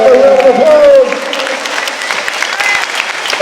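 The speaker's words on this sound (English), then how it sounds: "give a round of applause for Eric." Audience applause at a Yu-Gi-Oh! convention panel during a fan festival, a sustained wash of clapping from a crowd, with a voice speaking loudly over the first second before the clapping continues steadily.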